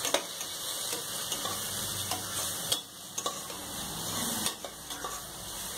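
Garam masala, biryani masala, coriander and red chilli powder being stirred into a hot pan for a fenugreek-corn biryani, with a continuous sizzle and scattered scraping and tapping of the spoon against the pan.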